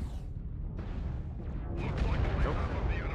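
Airstrike explosions in a MechWarrior video game rumble as deep, sustained blasts that swell and grow heavier toward the end, with no clear pause between them.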